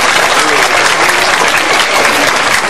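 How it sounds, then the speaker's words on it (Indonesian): Loud, dense applause from a large audience at an Islamic religious gathering (tabligh akbar) in Kutabumi, Tangerang, with crowd cheering mixed in, steady throughout. "Tepuk tangan buat para istri-istri."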